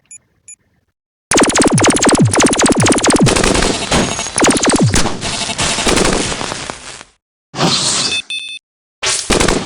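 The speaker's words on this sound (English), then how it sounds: "Let's see if blowing up this does anything." Loud machine-gun fire and crashing destruction in the game Polybot-7 as an object is blown up, a dense continuous barrage of shots lasting several seconds, then short bursts of electronic game effects after a brief gap.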